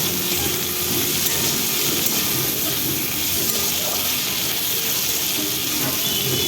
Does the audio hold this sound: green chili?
yes